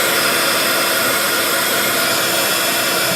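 A heat tool drying mica on a craft project blows a loud, steady broadband whoosh that holds unchanged throughout, close by with no talk.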